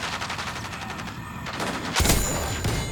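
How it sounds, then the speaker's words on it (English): A rocket launches in Call of Duty gameplay: a sudden loud burst and whoosh cut through steady rattling gunfire, followed by a lingering rumble. "I'm gonna shoot a rocket"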